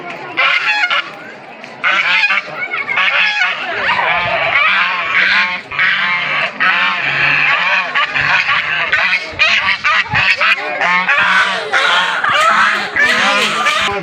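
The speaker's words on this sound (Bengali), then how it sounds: "গাইস এই দেখুন হাঁস।" Ducks or geese at a park pond honk and quack loudly and repeatedly, close by in a dense chattering flock, with people's voices mixed in at times.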